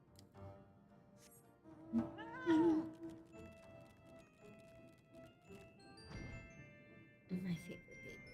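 A house cat gives one short meow partway through, with a few quieter chirps and soft thumps around it in a quiet room; a voice murmurs faintly.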